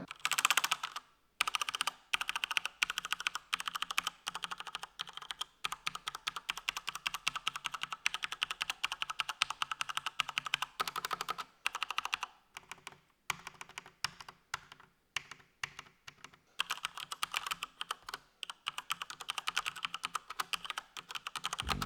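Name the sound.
typing on mechanical keyboard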